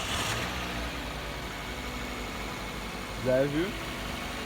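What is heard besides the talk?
Mazda 2 engine running after timing belt replacement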